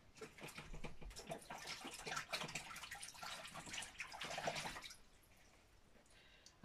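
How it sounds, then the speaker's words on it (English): Running water rinsing out a marbling tray during card-making: a steady splashing, dripping tap stream with irregular spatters for about five seconds, then it quiets to a faint trickle, close and alone without talk. "I'll rinse this one out."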